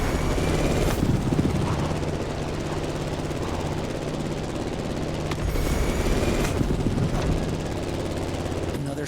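A plane engine in a flying video game drones loud and constant during a steep right turn, a steady roaring hum with a few sharp transient bursts over it.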